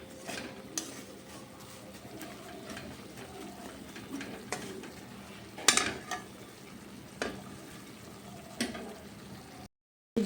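Semolina stirred and roasted dry in a pan, a soft continuous scraping with occasional sharper clinks of spoon against metal, fairly quiet and steady with no talking.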